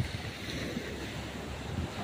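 Steady wash of surf and wind noise buffeting the microphone, a continuous broad roar with no voices.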